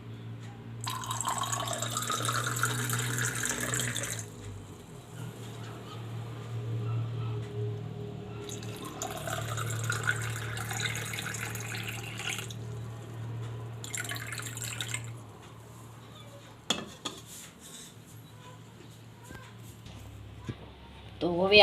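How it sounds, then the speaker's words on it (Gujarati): Water pours from a glass into jaggery syrup in bursts, a splashing, dribbling trickle that starts and stops several times, with someone talking over and between the pours. "પાણી નાખશું. આપણે આ 2 ગ્લાસ લીધું છે."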